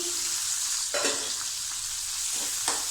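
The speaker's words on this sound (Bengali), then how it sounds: "এবার কড়াইয়ের মধ্যে দিয়ে দিয়েছি আর একটু তেল, দিয়ে দিয়েছি কয়েকটা রসুন কুচি, পেঁয়াজ কুচি" Chopped garlic and onion frying in oil in a wok for cabbage bhaja, a close continuous sizzle with a few scraping stirs of a spatula breaking through.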